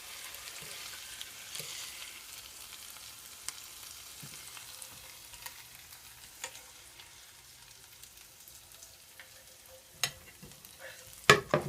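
A ribeye steak sizzles in a frying pan with a low, steady crackle, joined by occasional clicks and a louder scrape or clatter near the end.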